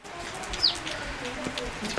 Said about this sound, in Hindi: चिड़िया बेचारी और खाना मांग रही है